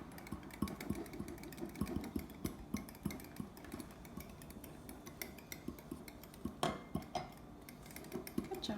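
A small flat-bottomed mini whisk taps and scrapes rapidly against a bowl while mixing meatloaf sauce, a busy, close run of light clinking strokes with a few sharper knocks.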